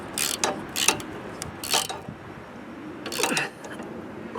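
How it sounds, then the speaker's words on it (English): A ratchet tightens the carburetor bowl nut on a snow blower, giving several short bursts of rapid clicking, three close together and one after a brief pause, crisp and near with no talking. "And tighten that with the ratchet."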